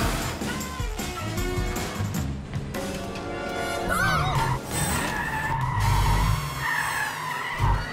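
A cartoon cat car drives and skids with loud tire squeals and revving engine sweeps amid music and effects, building to heavier rumbles near the end.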